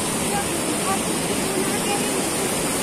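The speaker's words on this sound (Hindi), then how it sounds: "ये देखिए फ्रेंड्स यहाँ पे कितना पानी आ रहा है" Steady, loud rush of flowing water fills the whole scene, a broad continuous roar like a waterfall or fast stream close by.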